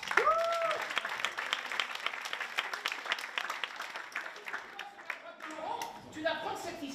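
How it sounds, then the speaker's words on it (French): Applause for a performer named Sabine at a home talent show, scattered clapping of modest density with a voice speaking over it. "qu'on applaudit bien fort"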